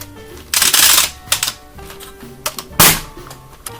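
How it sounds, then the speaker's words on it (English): A Dart Zone Villainator pump-action toy dart blaster racked and fired, giving loud plastic clacks and sharp bursts in an irregular sequence, close and prominent. "The Villainator is pump action, meaning you crank on the front to prime it, and then you press the trigger"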